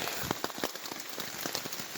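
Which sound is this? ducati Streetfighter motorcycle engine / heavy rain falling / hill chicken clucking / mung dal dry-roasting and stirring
heavy rain falling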